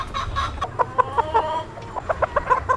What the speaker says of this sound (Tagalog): Ito yung isa sa mga kapatid ng manok na yung una kong pasisiw.